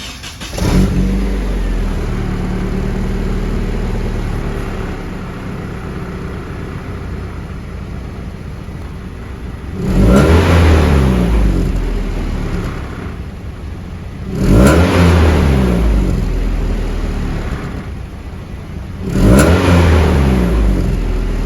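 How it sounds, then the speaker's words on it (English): A Nissan 240SX with unbranded headers, stock exhaust and several exhaust leaks idles steadily, then revs three times in quick rising bursts that fall back to idle, heard close and alone without talk. "I'm gonna show you guys a clip of what the car sounds like with the stock exhaust right now and its current setup."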